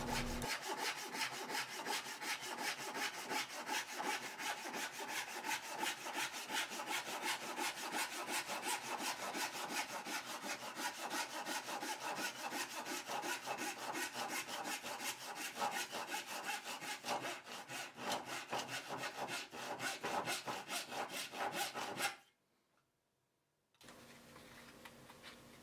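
Someone saws excess material off a hardened paper lure blank with rapid, rhythmic rasping strokes that run steadily for about twenty seconds, then briefly stop before faint scraping resumes.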